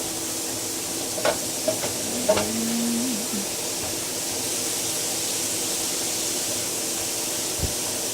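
Cauliflower fried rice being stirred in a hot pan: a steady hiss of sizzling with a few scraping strokes and a squeak early on, close and fairly loud, then a continuous fry.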